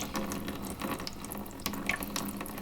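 Water from a Honda turbo engine's catch can pours and splashes in a thin, steady trickle with a few drips and clinks, fairly quiet and close, with no talking.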